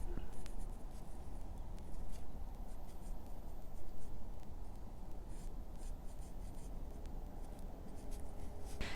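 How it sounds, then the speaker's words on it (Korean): Steady scratchy rubbing of a colored pencil on paper while sketching a cat's face, close and continuous with short strokes, and no voices. "고양이 얼굴의 중심선을 따라서 눈, 코, 입을 그려줍니다."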